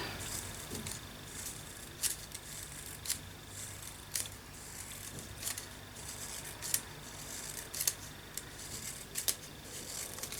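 Scissors snip through recycled book-page paper for a mixed media craft, with sharp, distinct cuts at irregular intervals, roughly every second, close and clear over a quiet background hum.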